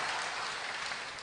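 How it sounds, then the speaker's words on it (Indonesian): An audience claps at a national Christmas celebration, a dense, even wash of applause from many hands that sounds somewhat distant and holds steady. "Sekali lagi kita berikan tepuk tangan yang paling meriah"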